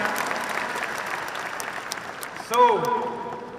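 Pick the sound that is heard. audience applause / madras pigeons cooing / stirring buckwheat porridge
audience applause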